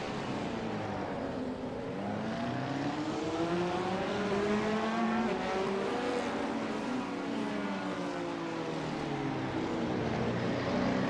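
Several race cars circle a track in a sportscar challenge sim racing game, engines droning steadily with rising and falling pitch as they pass, a continuous layered whine with no talk.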